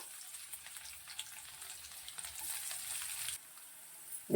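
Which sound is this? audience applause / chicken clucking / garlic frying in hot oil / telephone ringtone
garlic frying in hot oil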